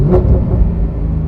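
A Porsche GT3 downshifts with its exhaust valves closed, a loud, close, muffled engine rumble with a brief rev blip at the start.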